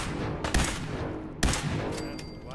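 Laser gunfire in Fallout 4 rings out in two sharp, bright bursts about a second apart over a dense background of game ambience, followed by fainter zapping shots near the end.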